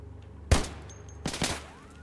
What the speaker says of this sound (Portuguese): de onde que tá vindo esse tiro?